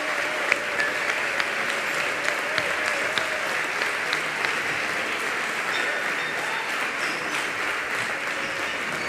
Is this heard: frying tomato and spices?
no